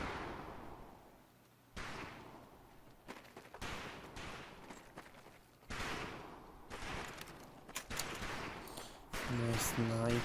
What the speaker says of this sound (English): Conlon, Gage, we have 2 scoped rifles available for use today. See how many hits you can get on the long-range targets